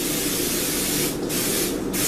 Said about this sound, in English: Also a little spray over here